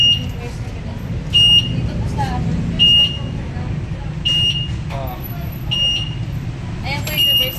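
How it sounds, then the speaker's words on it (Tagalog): A reverse alarm on a Nwow EMC Golf2 electric bike beeps in short, evenly spaced electronic tones, about six over several seconds, under close conversational talk with steady traffic rumble behind. "Mag-alarm po yan sir pag a-atras po kayo sir."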